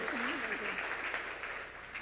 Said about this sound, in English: if we could give her one more round of applause